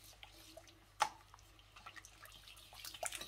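Sugar syrup heats in a pot toward a boil, giving faint, scattered bubbling pops and drip-like plops with one sharper pop early on, quiet and close.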